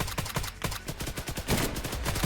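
Rapid bursts of gunfire in the DayZ video game, a dense crackle of repeated shots in quick succession, loud and close, with no talking over them.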